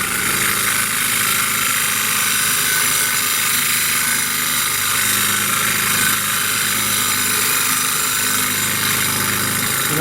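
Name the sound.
grinding wheel sharpening a woodturning tool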